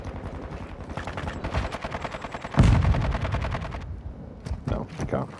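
Rapid gunfire in a multiplayer shooter game, with dense bursts of shots throughout and a louder, heavier blast near the middle, mixed with faint voices.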